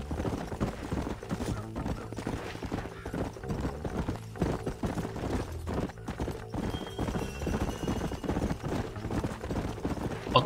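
Horse hooves clip-clop at a steady rhythmic pace in Red Dead Redemption, a continuous trotting beat with an occasional whinny, set against a low ambient game backdrop with no talk.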